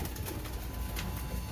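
Teddy pigeons at the Shahdara pigeon market in Lahore coo steadily amid a dense, continuous market din, with soft rolling calls close by and no clear voices.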